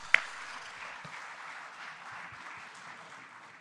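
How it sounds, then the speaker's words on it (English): An audience at the opening ceremony of an ILO regional seminar for labour-based practitioners gives a soft, continuous round of applause, fairly distant and even, with one sharp clap near the start. "Clap for her again, please."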